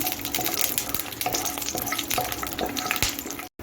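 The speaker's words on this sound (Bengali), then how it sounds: "এখন আমি বাদামটা দিয়ে দিচ্ছি বাদামটাকে আমি একের থেকে দেড় মিনিট একটু ভেজে নিচ্ছি" Peanuts fry in hot white oil in a non-stick pan, making a loud, continuous sizzle with busy stirring clatter close by and a brief cutout near the end. No one speaks.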